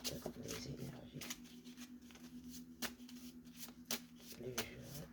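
Tarot de Marseille cards riffled and shuffled by hand in quick repeated bursts, close and fairly loud, with a steady background hum running underneath.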